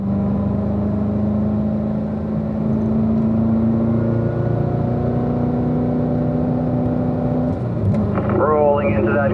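A race car on a track holds a steady, loud engine drone with a rising harmonic as it accelerates through a gear, then the pitch drops sharply near the end as it brakes and shifts down, with an instructor talking over it.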